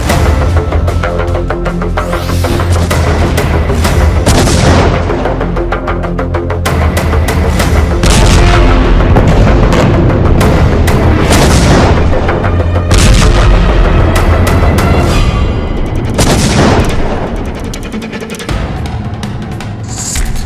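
Bombing and artillery fire in northern Gaza: loud, repeated heavy booms and blasts crowd one another, with sharp impacts every second or two and rolling rumble between them over twenty seconds.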